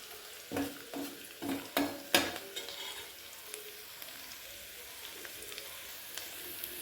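Onion sautéing in a pan for a home vegetable dish, a few sharp stirring scrapes early on over a faint, steady sizzle that carries on quietly to the end.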